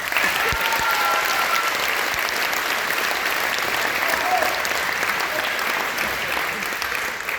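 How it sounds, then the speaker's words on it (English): Steady, dense applause from a sizable audience at a JROTC awards night, sustained evenly for several seconds without a break. "So give them a big round of applause."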